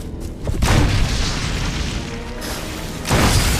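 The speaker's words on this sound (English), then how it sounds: "now we're gonna equip the grenade launcher with the flame rounds" A grenade launcher fires a flame round in Resident Evil Remastered, a heavy booming blast with a roaring rumble that sustains, then a second deep boom near the end.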